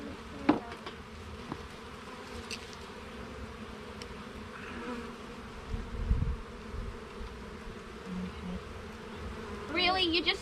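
Honeybees buzz around an opened hive at a season opening, a continuous droning hum with individual bees passing close, brief handling knocks, and a short burst of talk near the end.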